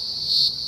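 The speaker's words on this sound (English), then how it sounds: "That one was actually a greengrocer cicada, like we have in the picture here." A greengrocer cicada calls, a shrill, steady insect buzz that rises and holds briefly at high pitch, loud and close by.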